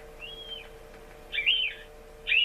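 Lucky Duck electronic caller playing a rodent call, thin high squeaks and chirps in short bursts, a drawn-out squeal followed by two sharper squeaks, over a faint steady hum.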